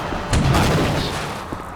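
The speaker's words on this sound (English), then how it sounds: "the explosion sound is from Half-Life 1" Explosion in the video game TimeShift, using a sound effect taken from Half-Life 1: one loud blast with a sharp onset that tails off into a rumbling decay.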